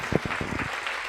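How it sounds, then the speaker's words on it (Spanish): A church congregation gives a short burst of applause to the Lord during a morning service, several distinct claps sounding close and loud over about a second. "Den ese fuerte aplauso al Señor en esta mañana"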